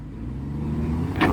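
A Jeep WJ Grand Cherokee engine revs on an off-road trail, a low, steady rumble that swells briefly toward the end of the short burst.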